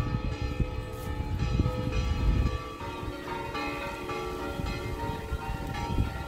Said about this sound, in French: On entend les cloches.